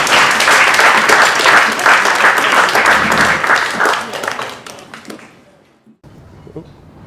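An audience gives loud, dense applause welcoming a speaker to an optometry talk on orthokeratology contact lenses; the clapping holds strong for about five seconds, then fades away, leaving a quiet room with a few faint sounds.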